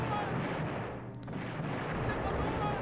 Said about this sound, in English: we should be getting a rocket barrage here